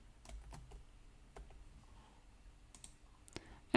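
Quiet, sparse clicks of typing on a computer keyboard, a few scattered keystrokes with pauses between them and a louder click at the end, nothing else in a near-silent room.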